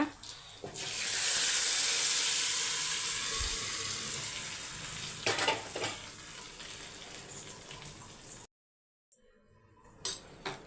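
Food sizzles and crackles in hot oil, a steady hiss that fades slightly, with a brief silence near the end; no voices.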